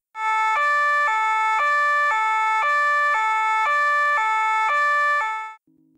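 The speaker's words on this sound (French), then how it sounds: "Une voiture de police." Police car siren sounding close and loud, a steady two-tone hi-lo wail alternating evenly about every half second for nearly six seconds before cutting off abruptly.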